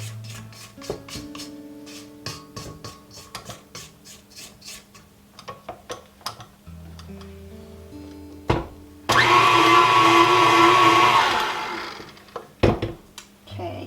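A spatula scrapes around a mixing bowl of maple apple oat cake batter in a homestead kitchen, with a run of short, close taps and scrapes, then a loud, steady whirring burst for a few seconds before the clatter resumes.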